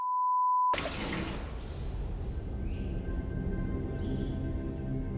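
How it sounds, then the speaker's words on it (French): After a short electronic beep, a continuous rush of running water flows steadily, with faint high chirps drifting over it. "Non, t'as laissé le robinet ouvert."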